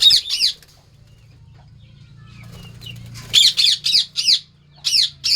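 Several birds squawk in harsh, rapid bursts, two calls at the start, then a long hush with a low hum before a volley of loud squawks returns.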